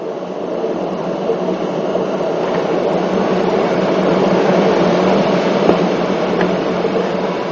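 A narrow-gauge steam train on an Irish railway in 1958, hauled by an original Cavan and Leitrim 4-4-0 tank engine, gives off a continuous, fairly loud rolling rumble that holds steady throughout, with no voices.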